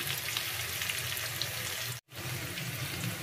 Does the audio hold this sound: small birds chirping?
no